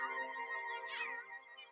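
A cat meows in a drawn-out, tonal cry with a rising and falling inflection, close and clear, as a cartoon-style sound effect with nothing else behind it.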